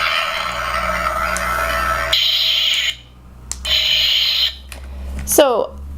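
A TotalFX Rogue lightsaber hums steadily, then gives two bursts of swing sound as it is waved, with brief gaps between them and a sharp swooping sweep near the end.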